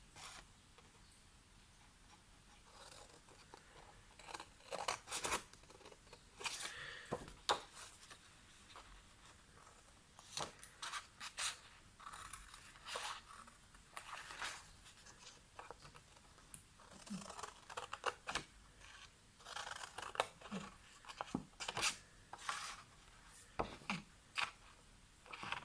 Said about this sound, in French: je vais juste prendre mon ciseau plus grand